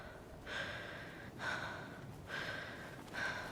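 A video game character breathing shakily and tiredly, four slow breaths spaced about a second apart, close and fairly soft, with no talk over them.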